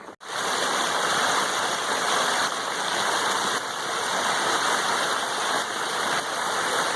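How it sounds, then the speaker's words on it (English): A small mountain stream and waterfall on the Appalachian Trail pour steadily nearby, an even, close rushing of water that never lets up. "Been following this waterfall for this little stream for about a mile."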